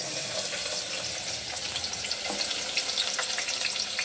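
Chopped onion and tomato tipped together into a hot pan for misal pav, a bright wet sizzle and hiss that stays busy and fairly close for the whole stretch, with no talking.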